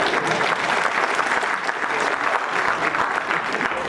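Steady applause from a live audience at a storytelling gathering, dense and sustained clapping filling the whole stretch at an even level with no voices on top.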